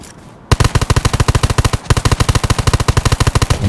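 Rapid automatic gunfire aimed at a zombie in the Undawn video game: a loud, steady stream of evenly spaced shots, about ten per second, with one brief pause, close up and with no talking.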